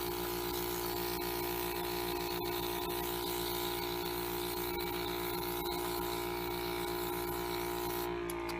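Elementwo Airbrush Pro makeup airbrush blowing a steady stream of air to dry freshly applied makeup, a continuous close hiss over a low motor hum with no break.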